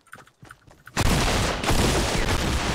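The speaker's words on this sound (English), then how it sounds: "I shoot both of my shots at this guy" Double-barrel shotgun fired in the video game Fortnite: after a quiet opening, a loud, close blast hits and a second shot follows about half a second later, leaving a sustained rumbling roar.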